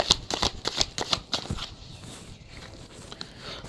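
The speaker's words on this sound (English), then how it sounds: "I'm going to pull some cards on that." Tarot cards shuffled by hand in a quick burst of crisp riffling slaps over the first second and a half, then fading to soft faint rustling, close and with no talk.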